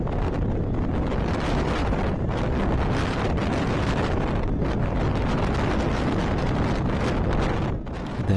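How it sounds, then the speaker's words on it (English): Strong gusty wind roars during a tornado in Duba, Saudi Arabia, a dense, continuous blast buffeting the microphone with surging gusts and no voices throughout. "The twister was accompanied with gust winds packing 80 kilometers per hour."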